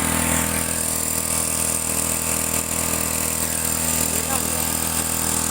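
A two-stroke turbo agricultural sprayer engine runs continuously at high revs, a loud, dense, buzzing drone that stays steady throughout and close to the microphone.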